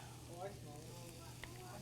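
About a tablespoon of garlic sizzles softly in a hot pan during a culinary demonstration, a quiet, continuous crackle with faint stirring and no talking.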